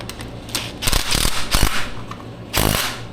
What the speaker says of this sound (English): I'm going to hit that 10mm bolt down there